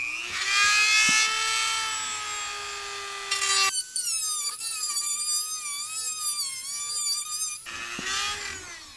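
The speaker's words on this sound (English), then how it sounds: "I got my Dremel with sanding disc or drum" A Dremel rotary tool with a sanding disc or drum grinds custom dash parts for a 1967 Mustang, a steady high whine that shifts pitch as the load changes, with a brief pause near the end.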